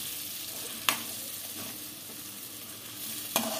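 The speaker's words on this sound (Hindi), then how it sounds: "इस तरह से हमें चलाना है थोड़ी देर तक, 1-2 मिनट हमें चलाना है इसे।" Banana halwa is stirred in a pan over a soft, constant frying sizzle, with a few sharp scraping strokes of the spoon against the pan spaced seconds apart.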